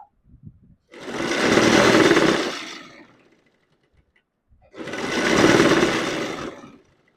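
A sewing machine stitching a godhadi quilt runs in two steady whirring bursts of about two seconds each, separated by a pause with faint handling clicks, close and clear with no talk.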